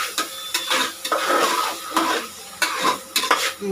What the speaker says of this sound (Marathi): हे हलवून घेऊया